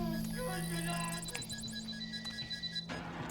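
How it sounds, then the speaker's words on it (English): A door alarm in the video game The Outlast Trials rings as a fast electronic beeping sequence with a rapid, rising run of chirps, then stops abruptly and gives way to a low mechanical whoosh. "you will hear the noise of the doors opening and the X-Pop arriving alarm"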